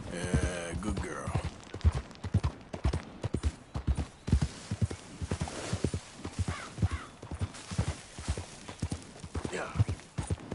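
Hoofbeats of a horse galloping in Red Dead Redemption 2 drum in a steady, loud clip-clop rhythm throughout, close up, with a rider's voice speaking over the running gait.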